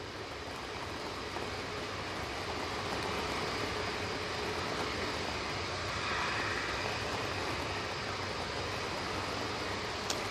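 A Ryanair airliner landing at Manchester Airport during Storm Floris, its engines a broad continuous roar blended with heavy wind noise, steady and loud throughout with no voices.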